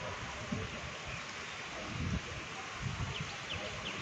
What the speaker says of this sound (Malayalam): മഴ പെയ്യുന്നു. നല്ല മഴ.